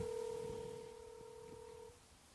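A phone places an outgoing call, giving one steady, quiet dial tone that holds for about two seconds and then cuts off.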